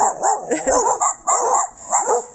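Dogs barking and yipping in quick bursts, fairly close and loud, with a few whimpering notes between the barks over a short stretch.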